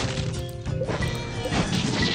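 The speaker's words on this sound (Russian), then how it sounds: "Все, катапульту мы разбили." A catapult being smashed in the video game Dino Bash, a loud crash and thwack with clattering debris over a busy game soundscape.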